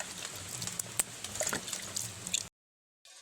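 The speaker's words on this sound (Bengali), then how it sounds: "আমি এবার হাতটা ধুয়ে নিচ্ছি" Hands are washed under running water, with a close, moderately loud splashing and trickling for a couple of seconds before it abruptly cuts off, then a faint return.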